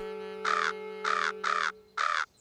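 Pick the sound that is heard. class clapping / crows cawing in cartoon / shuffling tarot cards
crows cawing in cartoon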